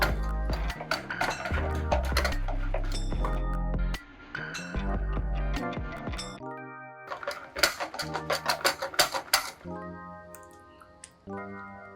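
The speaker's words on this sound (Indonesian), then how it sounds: "Aduk hingga tercampur rata." A utensil stirs dadar gulung batter mixed with cooking oil in a bowl, giving repeated clinks against the bowl and soft wet squishing in uneven bursts, with light background music.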